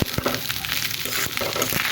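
Fried rice with peas and coriander leaves being stirred in a pan, a close, busy sizzle with irregular knocks and scrapes of the spatula, no one speaking.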